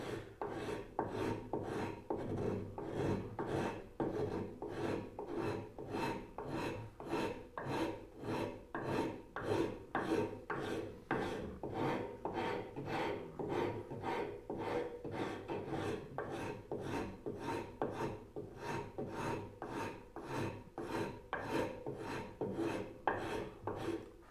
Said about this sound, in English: But we're not done rasping yet.